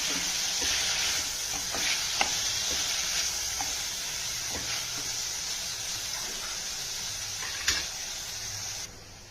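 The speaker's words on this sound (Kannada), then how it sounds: "ಟೊಮೆಟೊ ಹಾಕ್ಬಿಟ್ಟು ಚೆನ್ನಾಗಿ ಮಿಕ್ಸ್ ಮಾಡ್ತೀನಿ." Tomatoes fry in a pan for Kannada tomato pappu, giving a steady close sizzle with intermittent scraping knocks of a spoon stirring, and the hiss drops off abruptly near the end.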